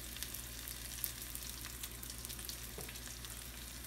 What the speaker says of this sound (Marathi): आपल्याला हे चांगलं फ्राय करून घ्यायचं आहे